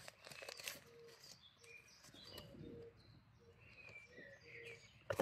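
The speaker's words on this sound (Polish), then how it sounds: "Ptaki śpiewają." Birds sing and coo outdoors in a spring garden: a pigeon-like coo and scattered chirps sound faint and at a distance over quiet background rustle, ending in a brief louder close noise.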